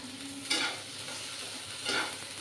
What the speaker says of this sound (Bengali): এই তেলের মধ্যে একটু আমি নেড়ে নেব